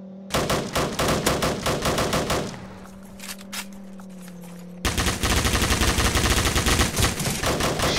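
Rapid automatic gunfire in a zombie apocalypse video game, loud bursts of rattling shots, then a short lull with a low hum, then another sustained burst of fire through to the end.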